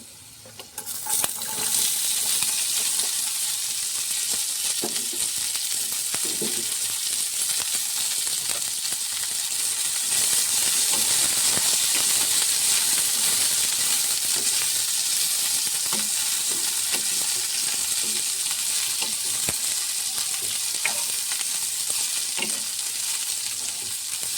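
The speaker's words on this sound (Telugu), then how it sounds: "ఇప్పుడైతే మనం చిన్నగా కోసుకున్న క్యాబేజీ అయితే ఇందులో వేసేస్తాను" Chopped cabbage for chutney sizzles and crackles steadily in a hot pan, a close, continuous frying hiss with occasional small pops and stirring sounds, no one speaking.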